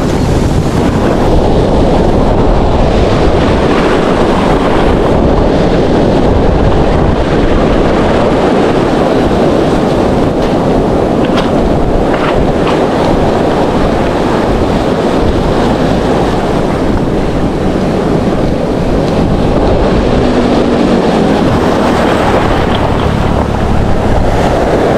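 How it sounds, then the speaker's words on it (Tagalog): Loud, continuous rush of heavy surf and crashing waves with strong wind buffeting the microphone throughout, and a low engine hum underneath. "Laki ng alon, no?"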